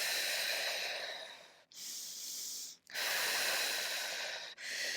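Long audible exhales during a Pilates roll-up with a ring squeezed between the knees, three sustained breathy rushes separated by short pauses, close and fairly quiet.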